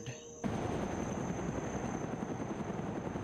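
A military helicopter in an alternate-history war strategy game cuts in abruptly after a quieter start, then holds a dense, loud rotor roar with a thin steady whine above it.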